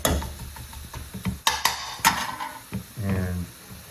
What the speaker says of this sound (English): I'm going to throw the garlic in there. Let that cook down.